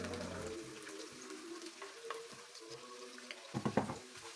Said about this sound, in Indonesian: Setelah minyaknya panas, masukkan bawang putih dan bawang merah iris.